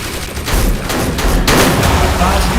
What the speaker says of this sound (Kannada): Gun shot.